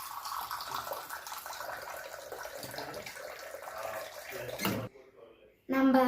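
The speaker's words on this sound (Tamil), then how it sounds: "பாலை பார்த்தீங்கன்னா பொறுமையாக ஊற்றுங்க" Milk poured slowly into a pot for masala milk, a steady, fairly loud rushing stream that runs for several seconds, drops away abruptly, then returns briefly.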